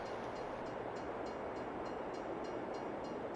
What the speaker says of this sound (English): we'll wait for the train to come, and then we'll go from there